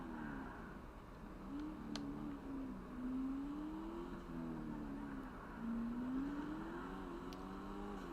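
A car engine in GTA Online hums steadily at moderate revs, rising and falling gently as the car cruises, continuous and without talk.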